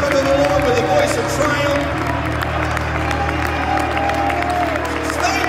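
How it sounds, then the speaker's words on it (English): Church congregation clapping hands in praise during a worship service, a dense, steady wash of applause with crowd noise and voices mixed in, loud and close throughout. "Somebody give him praise one more time and a hand clap."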